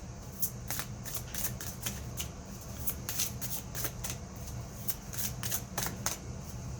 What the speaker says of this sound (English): Now they're saying to actually get another tarot card.